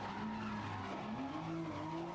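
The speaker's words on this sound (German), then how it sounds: "wenn die Reifen hier quietschen und dröhnen und machen und tun" A Nissan Skyline GT-R squeals its tires in the racing video game Grid, giving a steady wailing screech that bends in pitch over a constant engine drone. The sound is continuous and fairly loud, with no speech.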